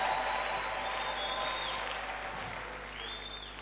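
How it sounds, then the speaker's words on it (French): A church congregation applauding and cheering for victory during a sermon, steady clapping from a crowd that fades slowly across the whole stretch, with no talk over it. "Quelqu'un peut acclamer pour la victoire?"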